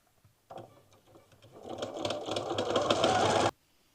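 A sewing machine stitches a quilt block in a single close burst, starting with a few slow stitches before speeding into a fast, rattling whir that cuts off abruptly.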